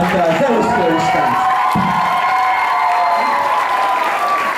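An arena audience applauds and cheers to welcome a performer called Zeus, loud sustained clapping with crowd shouts rising throughout, overlapping a voice and a lingering tonal sound.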